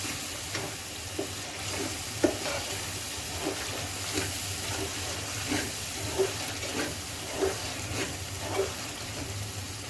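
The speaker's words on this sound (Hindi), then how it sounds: "दाल को यहाँ पे मैं भून लूँगी।" Moong and masoor dal roasting in a pan, a steady soft sizzle and hiss with faint periodic scraping clicks of stirring, no voices.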